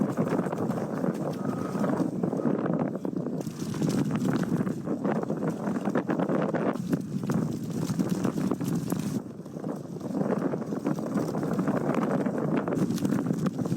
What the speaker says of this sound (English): The wind out here is so intense, you guys can probably hear it.